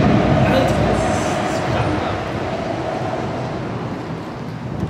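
Loud, steady roar of wind rushing past under a highway bridge, a continuous broadband rumble with no break from start to finish.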